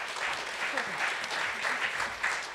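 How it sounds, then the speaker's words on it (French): An audience applauding at a literary reading event, steady dense clapping held at an even level for a couple of seconds, with a voice faintly underneath. "Je vous demande de l'applaudir."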